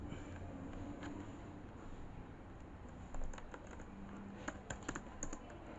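Keystrokes on a computer keyboard tapping out code in a steady scattered patter, with a few sharper clustered clicks near the end, fairly faint under a low room hum.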